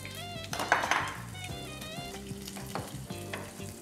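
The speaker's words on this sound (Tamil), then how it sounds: "தாளிப்புக்கு தேவையான அளவு கடுகு, சீரகம் இதோட சேர்ந்து" Mustard seeds and cumin hitting hot oil for tempering, a bright crackling sizzle that flares early and then settles into steady frying with light pan clinks and stirring, no voices.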